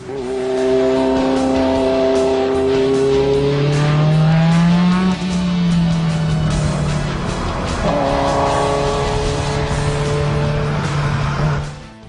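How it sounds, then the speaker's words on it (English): A Ferrari 288 GTO Evoluzione races on a track, its engine loud and close, rising and falling through gear changes as it roars by with faint tire squeal, continuous for the whole stretch. "Here's a rare chance to see a 288 GTO Evoluzione in racetrack action."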